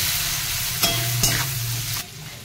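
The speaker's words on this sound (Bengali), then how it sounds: "লাল করে একটু ভেজে নিতে হবে।" Boiled taro with turmeric and salt sizzling in a pan, a steady close fry broken by a couple of sharp stirring scrapes before the sound drops away near the end.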